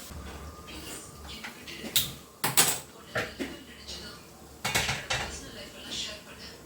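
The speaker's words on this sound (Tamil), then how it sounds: "இது சும்மா மேஷ் பண்ணுறதுக்காக இந்த மத்து யூஸ் பண்ணுறேன்" A wooden churner (mathu) mashes tamarind in a vessel while making homemade pani puri, giving scattered knocks and scraping clatters against the pot, a few sharp hits standing out over quiet background noise.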